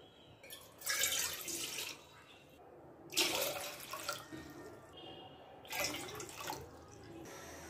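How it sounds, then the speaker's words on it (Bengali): Water poured from a cup into a pot on the stove, eight cupfuls for spiced tea, coming as three separate splashing pours with quiet gaps between, fairly soft and close. "এই কাপের 8 কাপ জল পাতিলে দিয়ে দিব।"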